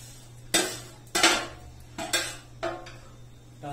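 Sewai vermicelli goes into a metal pot in a series of five sharp clattering knocks and rustles spaced roughly half a second apart, close and fairly loud over a low steady hum.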